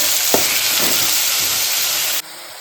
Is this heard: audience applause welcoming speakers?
no